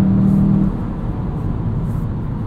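A 2020 Volkswagen Jetta GLI with a 6-speed manual cruising on the Autobahn, its engine a loud, steady, droning low hum with constant road rumble from inside the cabin, a brief tone at the start.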